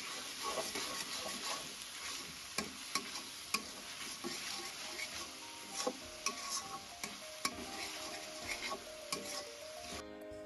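Onion and garlic fry in a pan with a dense, continuous sizzle. Steady stirring scrapes and clinks break through it at intervals, loud and close.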